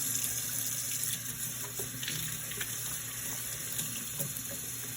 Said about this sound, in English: I'm going to soak these in water, vinegar water, for about 30 minutes.